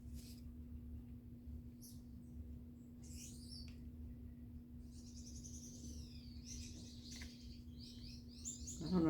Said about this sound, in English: that's my bird singing. He's a little finch, Lady Goulden.